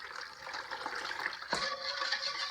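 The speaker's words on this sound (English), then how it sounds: "We're going to be pouring the cure on top of these" Curing brine poured over pork bellies in a container for bacon, a close steady liquid pour and splash with a brief gurgling surge midway.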